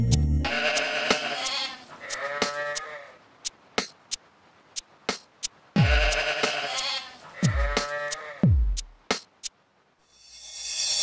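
Sheep bleat in several separate, loud calls, some short and some drawn out, with sharp clicks and knocks between them and a singing voice at the end.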